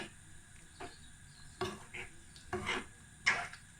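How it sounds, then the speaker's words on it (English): Curry mixture for chicken jalfrezi being stirred in a pan, with a few distinct scraping strokes at irregular intervals over a faint background hum, close and moderately loud, no voices. "Keep stirring the curry mixture"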